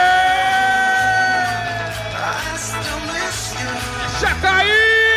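A rodeo crowd at a bull-riding final in Senhora do Porto, Minas Gerais, yells and whoops in a loud, sustained roar over a constant music and announcer backdrop, with a sharper burst of shouting near the end.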